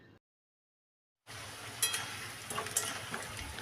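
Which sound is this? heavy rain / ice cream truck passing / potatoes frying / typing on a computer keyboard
potatoes frying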